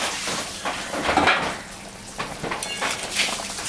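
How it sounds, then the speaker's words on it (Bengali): Mustard sauce for hilsa curry bubbling in a pot, a soft sizzling boil with occasional utensil clinks against the pot, close and moderate, without speech. "ঝোলটা ফুটে গেছে"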